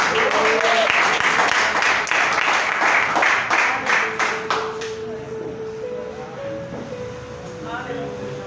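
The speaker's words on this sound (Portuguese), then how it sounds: "Aplaudam a palavra do Senhor." A church congregation applauds, with dense clapping that tapers off after about five seconds. Sustained keyboard tones and a few voices carry on beneath and after the applause.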